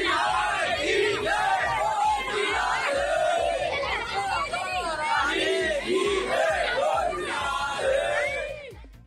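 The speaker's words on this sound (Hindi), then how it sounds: "संपूर्ण परिक्रमा मार्ग राधे राधे और श्री बांके बिहारी के जयकारों से पूरा वातावरण गूंज उठा है।" A large pilgrim crowd on the Mathura-Vrindavan parikrama route during the Akshay Navami festival chants and cheers Radhe Radhe and Shri Banke Bihari, a dense roar of many overlapping voices in rising and falling rhythmic calls.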